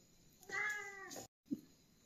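A single drawn-out meow from a domestic cat, clear and close in an indoor home setting, followed by a short pause and a brief low chirp.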